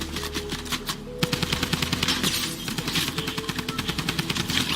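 Rapid bursts of automatic gunfire from the video game Fortnite, loud and close, with repeated rhythmic shots running through most of the moment over busy game sound.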